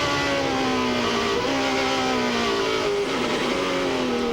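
A 2001 NASCAR Cup race car at Watkins Glen, heard from onboard, holds a loud, steady engine note with the gear whine rising and falling as the driver gets back on the throttle.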